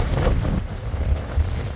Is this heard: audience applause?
no